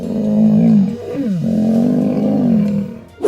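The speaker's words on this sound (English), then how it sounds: "they heard a low lion growl coming from right behind them" A mountain lion gives a low, rumbling growl from close behind, sustained and loud for about three seconds, dipping briefly in the middle before closing with a short sharp snarl.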